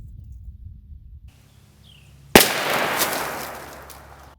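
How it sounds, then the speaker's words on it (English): A single sharp, loud 20-gauge Stevens 301 shotgun blast fired outdoors, with a long echoing decay after it, preceded by a quiet stretch of faint ambience. "I'm going to shoot this."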